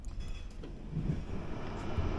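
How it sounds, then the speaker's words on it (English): Train crossing from Budapest into Austria, heard as a steady low rolling rumble of the railcar with faint rattles throughout, no voices. "our train crosses uneventfully into Austria right here at the small equipment hut on our left"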